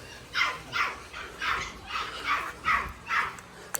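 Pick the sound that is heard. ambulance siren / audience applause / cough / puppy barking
puppy barking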